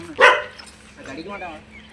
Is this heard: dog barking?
yes